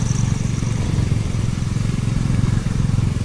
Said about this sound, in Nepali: स्कुटर नाच्न थाले बिस्तारै पवन